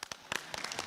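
An audience at a general assembly of the African Man and Biosphere Reserves network gives a short burst of scattered hand claps, a handful of distinct claps merging into light applause.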